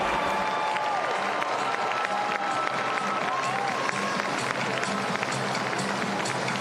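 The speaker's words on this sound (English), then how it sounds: "give a huge round of applause for those amazing gymnasts for their artistry, skill, and bravery tonight" An arena crowd at a gymnastics championship applauds the senior women gymnasts, a broad, distant wash of clapping with scattered cheers and a presenter's voice faintly over it.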